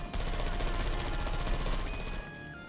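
Turrets firing in Portal 2, a loud continuous burst of rapid gunfire that holds steady for about two seconds, then drops away into a quieter tail.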